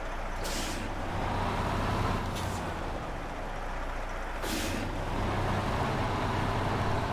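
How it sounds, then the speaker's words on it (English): In the video game SnowRunner, a steady low diesel truck engine rumbles throughout, with three short hissing air-brake bursts breaking through at intervals. "truck has a good engine and exhaust sound to it as well"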